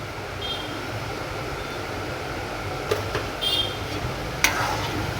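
Dried red chillies and mustard seeds tempering in oil in a village kitchen pan give off a steady, even hiss, broken by a few short metallic clinks near the end.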